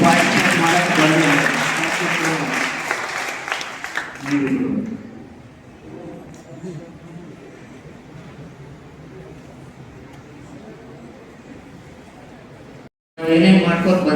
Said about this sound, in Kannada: ನಿಂಗಮ್ಮ ಅವರಿಗೆ, ಸಂಜನಾ ಅವರಿಗೆ ಮತ್ತು ಧರ್ಮಲಿಂಗಮ್ಮ ಅವರಿಗೆ ಒಂದು ಜೋರಾದ ಚಪ್ಪಾಳೆ